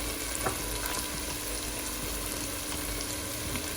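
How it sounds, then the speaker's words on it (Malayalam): Prawns roasting in a pan on a medium flame with black pepper, a dense continuous sizzle and crackle close up, with faint stirring scrapes and no voices. "ചെമ്മീനും കൂടെ ചേർത്ത് മീഡിയം ഫ്ലെയിമിലിട്ടിട്ട് നന്നായിട്ടൊന്ന് വഴറ്റിയെടുക്കാം"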